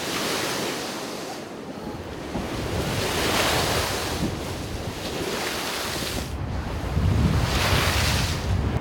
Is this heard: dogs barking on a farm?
no